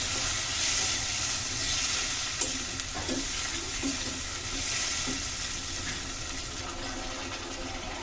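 Spices and lightly fried potatoes sautéing in a pan for an egg curry, a dense continuous sizzle with faint scraping stirs now and then, close up and steady throughout, no voices.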